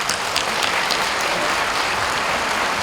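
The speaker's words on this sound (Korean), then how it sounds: "다시 한번 존경과 감사의 박수를" An audience applauds award recipients at a national women's convention in Korea, a loud, even roar of many hands clapping that holds steady for the whole stretch.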